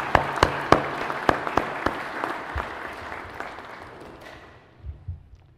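Audience applause at a Waynesburg University matriculation ceremony, starting with a few sharp individual claps that swell into a broad round of clapping and then fade toward the end.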